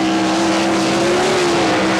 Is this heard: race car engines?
yes